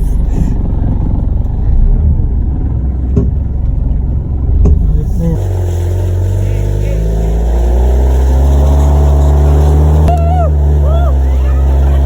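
A heavy off-road vehicle engine roars steadily, its low rumble rising into a sustained rev, with voices faintly under it early on.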